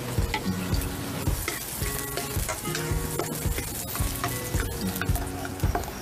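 Onions sautéing in about a tablespoon of oil in a hot pan, a steady loud sizzle with repeated scraping stir strokes throughout, no voices.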